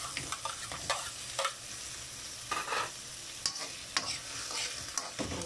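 Tofu frying in oil in a pan while being stirred, with a constant hiss and sizzle broken by irregular spatula scrapes and light clinks, close up and with no talking.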